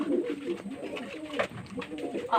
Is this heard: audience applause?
no